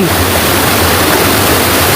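Sap Sa Kaeo (Jim Yai) waterfall at Ban Khao Phluang, Bueng Sam Phan, pours with a steady, dense broadband rush that holds unbroken and fairly loud throughout, with no voices over it.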